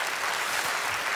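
Audience applause at the iUmor 2020 final, a televised Romanian comedy roast show, a steady, dense wash of many hands clapping that fills the whole moment with no voices on top.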